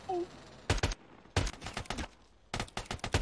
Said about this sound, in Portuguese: Atira esses caras, moço.